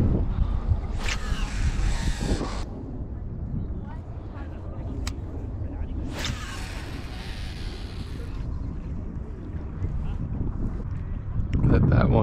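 Wind on Calero Reservoir during bass fishing, a steady low rumble and microphone buffeting throughout, with boat and water noise, loud and continuous, and brief bursts of hiss rising over it.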